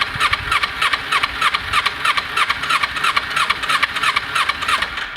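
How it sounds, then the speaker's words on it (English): A motorcycle engine starts after the choke is turned off, settling into a fast, loud, steady idle with rapid rhythmic firing and a squealing high-pitched edge throughout. "And you can see the bike does start."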